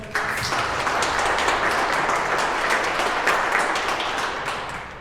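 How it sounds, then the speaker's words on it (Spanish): Audience at the closing of a workshop on human trafficking gives a speaker a loud, dense round of applause, continuous and full from start to finish with no talk over it. "Recibámoslo con un fuerte aplauso, por favor."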